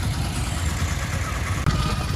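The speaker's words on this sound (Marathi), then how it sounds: "फुल ट्रॅफिक जाम आहे आज." Idling engines and motorcycles hold steady in a full roadside traffic jam, a continuous low rumble close by with a brief dip and bump near the end.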